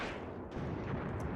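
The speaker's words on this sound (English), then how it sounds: "We've got more artillery fire coming in" Artillery fire rumbling in the WWII tactics game Graviteam Tactics: Mius Front, a dense low booming wash with a sharper burst near the middle, continuous and fairly distant.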